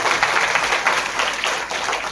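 An audience at a seven-day village Ramayana festival in Chhattisgarh claps together in a sustained, dense burst of applause that holds steady throughout at close range, with no talk over it.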